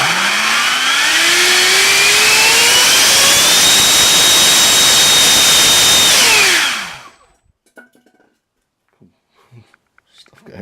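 90mm electric ducted fan with a 2250kv motor on a thrust test, a loud, steady jet-like whine rising in pitch and holding before spinning down, followed by faint rustling.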